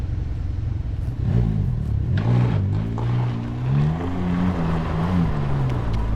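A Can-Am Ryker three-wheeler is slid around while riding, its engine droning loud and close with rising and falling revs as the throttle is worked through the slide.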